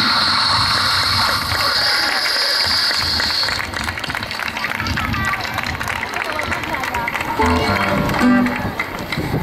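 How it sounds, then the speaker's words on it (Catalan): Audience applauding student actors after a Sant Jordi school play, loud dense clapping mixed with cheering children's voices, continuing throughout at close range. "Vinga, un aplaudiment."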